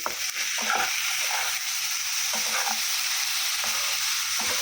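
Shrimp and fig curry sautéing in a wok sizzles loudly and steadily while a spatula scrapes and stirs in repeated knocks every half second or so, close up.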